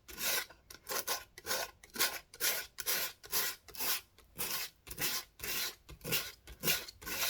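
P120 sandpaper rasps back and forth over an MDF box in quick, regular strokes, each a bright scratchy burst with short gaps between, close and clear with no talking.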